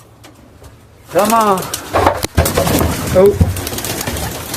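Snow white homing pigeons coo up close in short, rolling bursts, with wing flutters and handling noise around them and a person speaking briefly.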